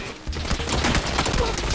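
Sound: gunfire in PUBG video game

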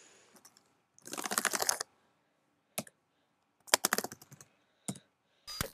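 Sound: typing keychain password on computer keyboard

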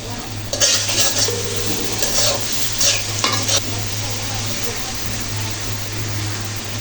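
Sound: stir-frying spices in a pan for fish curry

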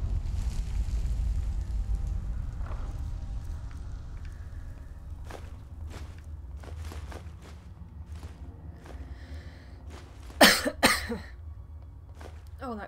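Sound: cough

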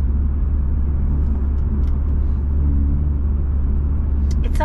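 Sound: car making a strange noise while driving

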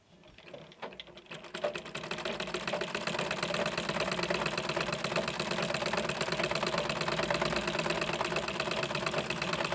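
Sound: sewing machine stitching

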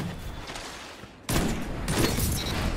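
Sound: gunfire from Praedyth's Revenge in video game Destiny 2

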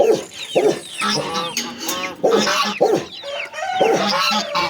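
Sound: chickens clucking while pecking sand

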